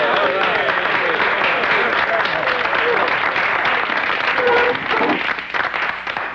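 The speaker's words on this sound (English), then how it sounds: "I think that we owe a big round of applause to our newest, bestest buddy and big toe, Sergeant Hulka." Audience applause fills the room in a dense, steady wash of clapping with crowd voices mixed in, holding loud throughout and easing slightly near the end.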